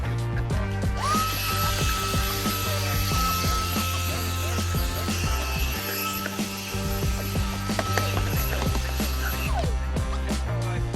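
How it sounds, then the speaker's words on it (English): A vacuum and track cleaner work along window tracks, giving a steady, loud motor whine with rattling, scraping mechanical clatter that shifts as the tool moves. "I always like to use a track cleaner and a vacuum."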